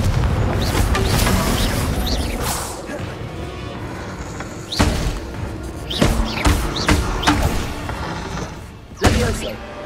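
Fiery spell blasts in the Hogwarts Legacy video game, several loud booming impacts and crashes scattered through dense combat noise, with a few sharp hits standing out toward the end.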